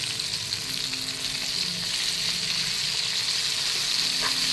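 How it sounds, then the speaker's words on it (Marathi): Vam fish pieces sizzle in hot oil, stood on their sides to fry the edges, giving a steady close crackle that runs unbroken throughout. "आता मी ह्याला उभं करून तळून घेते दोन्ही साईडनी"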